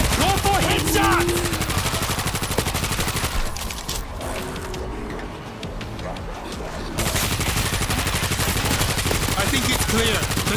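Dense, continuous gunfire from a zombie-shooter video game, World War Z: Aftermath, rattling loud and close in rapid bursts for most of the stretch, thinning briefly in the middle before the shooting surges back just as heavy.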